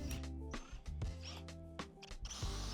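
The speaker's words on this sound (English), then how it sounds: "But obviously I still had to drill a few more pocket holes." A power drill drills pocket holes in wood, whirring in short bursts, starting and stopping several times, with a steady motor hum and brief clicks between runs.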